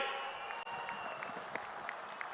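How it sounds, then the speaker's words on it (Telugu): Audience applause at a public meeting, faint and distant clapping that forms a steady patter, with a low murmur underneath. "గట్టిగా చప్పట్లు కొట్టి హర్షాన్ని ఆమోదాన్ని తెలియజేయాలి"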